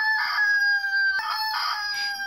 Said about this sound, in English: And he's a rooster.